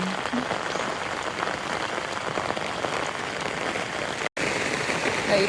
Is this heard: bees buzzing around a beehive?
no